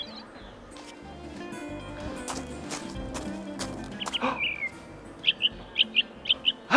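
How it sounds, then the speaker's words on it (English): A robin sings in a city park, with a few faint chirps early on, then a string of short, bright, evenly spaced notes close by toward the end. "This is a robin. It is a very early bird. It starts singing its beautiful songs early in the morning"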